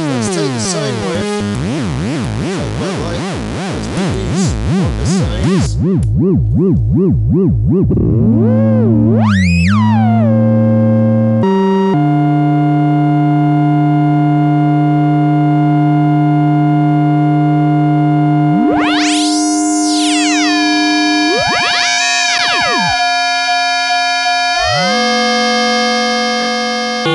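A Micromac synthesizer sounds sustained electronic tones: a rapid warbling section, then held notes and steep pitch sweeps rising and falling, loud and alone with no talking.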